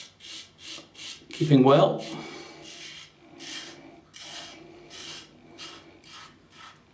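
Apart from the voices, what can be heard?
Parker 76R safety razor shaving stubble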